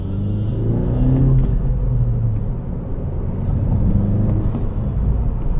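A car with a 1.5 liter turbocharged engine running, a steady low rumble and drone with a faint high whine, close and continuous without any rise in pitch.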